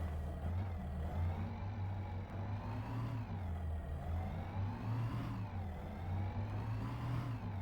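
Group C race car engine in Automobilista lugging at low revs, a deep, steady truck-like drone with slow rising and falling pitch, loud and continuous with no talking.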